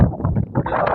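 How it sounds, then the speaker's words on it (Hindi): Strong wind of a dust storm sweeping through Multan city, a loud, continuous gusting roar with low rumbling buffets that swell and ease, thick and close to the microphone, with no voices. "खतरनाक आवाज़ भी है इस हवा के अंदर"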